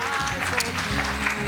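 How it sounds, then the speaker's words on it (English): An audience at a finance and investment summit award event in Ghana applauds sponsors in a brief burst of clapping, with a voice talking over it. "come on, a hand of applause for them"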